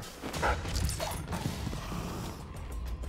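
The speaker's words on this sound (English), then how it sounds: "Oh, good, the dog sees me." A dog in Dishonored 2 barks a few times at moderate distance, short sharp yaps over a quiet ambient game background.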